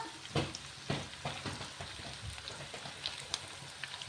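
Chicken frying in oil for chilli chicken, a steady close crackling sizzle with several louder bursts of spattering and stirring, moderately loud, no talking.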